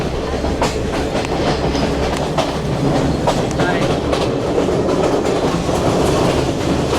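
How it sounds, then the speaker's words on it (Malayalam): A second-class train to Ella, Sri Lanka, rumbles steadily along the rails with rhythmic clickety-clack of wheels, close and continuous, with faint voices in the background. "സെക്കൻഡ് ക്ലാസ് ട്രെയിനാണ്"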